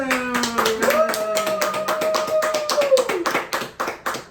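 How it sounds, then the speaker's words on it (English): An audience claps to welcome a guest onto a talk show, sharp hand claps heard over a sustained tonal melody, growing more scattered and uneven toward the end. "So we want you to give a round of applause, if you will, and a big welcome to Lawrence Wilson."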